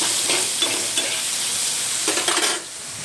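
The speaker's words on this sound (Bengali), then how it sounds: "এখানে আমি আলু ভাজছি নুন হলুদ দিয়ে" Potatoes with salt and turmeric sizzle in hot oil with a constant hiss, a few clinks of a spatula stirring, then the sizzle softens near the end.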